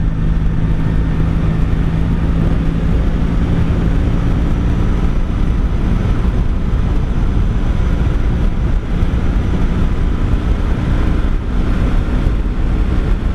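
Honda V65 Sabre motorcycle ridden along a rural road, steady loud engine drone with heavy wind rush over the microphone throughout, no talk.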